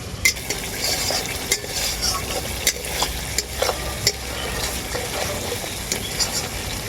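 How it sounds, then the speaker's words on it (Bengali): Spice paste (masala) is stirred and fried in oil in a pan, a steady sizzle broken by regular scraping clicks of the spoon against the pan, close and fairly loud with no talk. "এরপর আমি মশলাটাকে খুব ভালো করেই কষাতে থাকবো যতক্ষণ না মশলার গা থেকে তেল ছাড়ছে"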